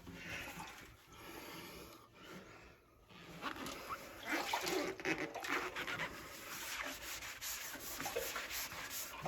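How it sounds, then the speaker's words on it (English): A rag rubs oil over a metal tank in steady, close scrubbing strokes that continue without pause, with no talking. "Wipe down on the bottom, wipe it over top of everything."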